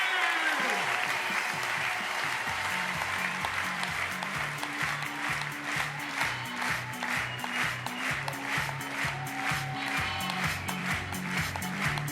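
Spectators in the stands at a show jumping Grand Prix at La Baule clap in rhythmic unison, a steady beat of crowd applause with a horse's hoofbeats and some background voices.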